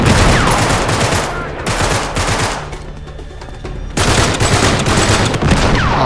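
Bursts of automatic gunfire in an Uncharted 3 shootout, rapid loud volleys that pause briefly near the middle before resuming in dense, close-up rattling fire.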